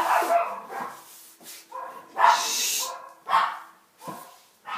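Several dogs at a house bark repeatedly in uneven bursts, some yipping, moderately loud and close, with brief gaps between the outbursts.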